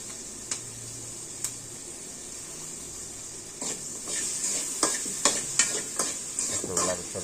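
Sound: chilies frying in oil

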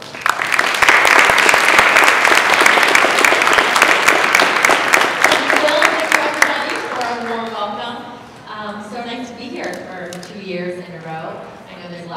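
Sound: audience applause welcoming Erin O'Malley

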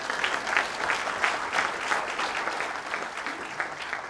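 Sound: audience applause at a conference

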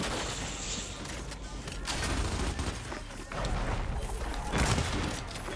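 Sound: sniper rifle gunfire in video game Gears 5

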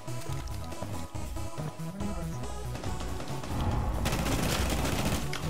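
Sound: gunfire shooting through walls in Rainbow Six Siege video game

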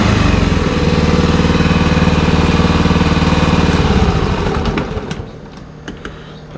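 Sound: Hangkai 6hp air-cooled outboard engine running

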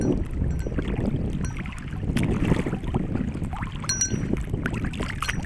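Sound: boat moving on water

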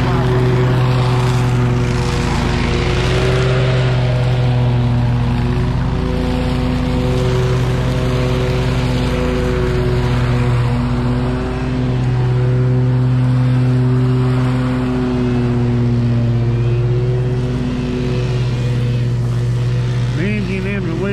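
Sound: Stihl FS 131 string trimmer engine running

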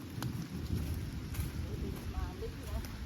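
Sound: rain falling

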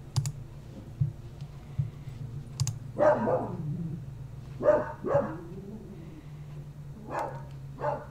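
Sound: dog barking

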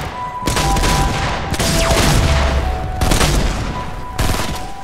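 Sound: big gun firing in Fortnite video game

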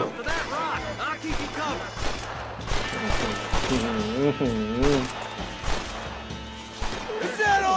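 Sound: gunfire in the video game Red Dead Redemption

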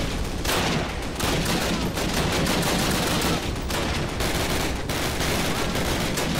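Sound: light machine guns firing in the video game Call of Duty (2003)

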